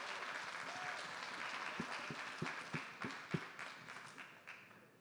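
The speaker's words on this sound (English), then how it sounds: "give them an applause." An audience at a baseball FanFest Q&A stage applauds, dense clapping that rises with a few sharper individual claps and then tapers away, heard from within the crowd.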